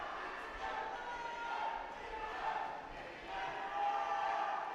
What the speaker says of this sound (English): We can see how people are cheering both the teams.